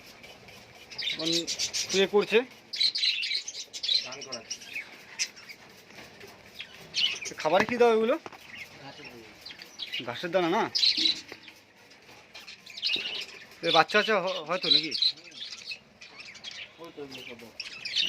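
Giribaz pigeons in a loft give repeated chirping and cooing calls with occasional wing flaps, moderately close, interleaved with people talking at intervals.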